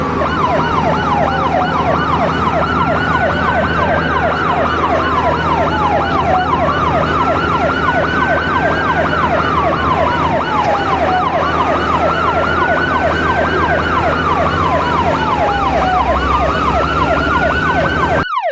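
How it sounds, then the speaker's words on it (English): A fire truck siren wails loud and continuous, rising and falling in repeated sweeping cycles over the rumble of the vehicle. "F for fire truck."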